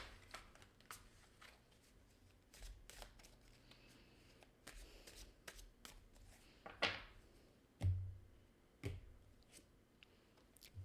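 Tarot and Romance Angels oracle cards are handled and drawn in a quiet room, with faint papery shuffling and several sharper isolated taps and slaps of cards being laid down.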